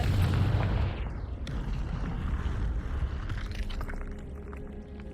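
A Confringo blasting spell explodes in Hogwarts Legacy: a loud, close burst that opens with a heavy low boom, then settles into a rumbling, crackling tail that slowly fades. No voices are heard.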